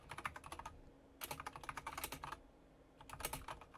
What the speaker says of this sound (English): No, because I'm typing an email to the news people.